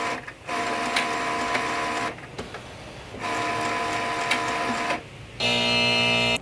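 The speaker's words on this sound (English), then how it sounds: "Once your paper's loaded, go ahead and print your image." A Sawgrass printer runs a print onto DTF film, its steady whirring and mechanical buzzing coming in bursts with short pauses between print-head passes, then ending in a sharper, higher-pitched tonal feed sound; no one speaks.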